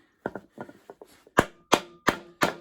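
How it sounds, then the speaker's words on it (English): A hammer taps a tapered steering bearing into a vintage motorcycle's steering head through a 2x4 block, starting with light quick knocks and building to four louder, evenly spaced blows, close and alone. "grab my hammer, start gently and evenly popping this thing in"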